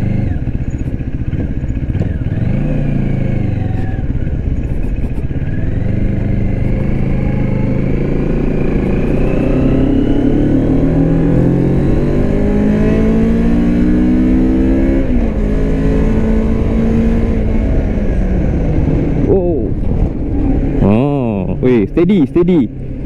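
Moto Morini X-Cape 650X adventure motorcycle engine droning steadily on a ride, pitch rising and falling through gear changes, close and loud under continuous talk, with a brief burst of revving near the end.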